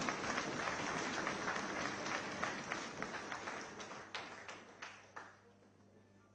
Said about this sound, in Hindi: एक बार जोरदार तालियां हमारी ऋचा पांडे।